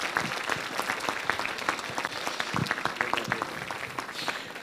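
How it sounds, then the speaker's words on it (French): A crowd at a French mayor's 2023 New Year address claps steadily for several seconds, a dense burst of applause with no talking over it. "Je vous demande de l'applaudir, Guillaume Ambroise."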